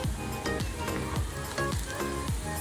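Ginger-garlic paste and mutton masala sizzle loudly in hot oil, a steady crackling fry with rhythmic scraping strokes of a stirring spoon, close up.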